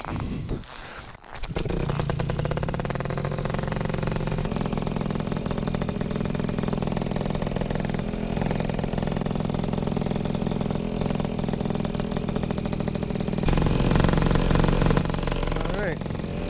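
Small aircraft engine running before takeoff. It catches after a brief pause, then drones steadily and nearby, rising slightly toward the end, with a voice speaking over it.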